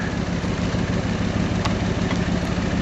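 A 1965 Ford tow truck wrecker with a standard transmission and two-speed axle sits with its engine running, a steady, loud low rumble holding constant throughout with no voices.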